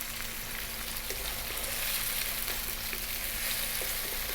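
Tomatoes cooking down with salt in a pan, a steady, even sizzle and crackle throughout, close and soft, with no speech.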